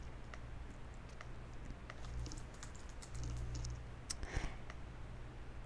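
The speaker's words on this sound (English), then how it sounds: "type in the first or last name of the person and hit enter" Light, quiet clicks of a computer keyboard as a name is typed into a search field, scattered keystrokes over a steady low hum with no voices.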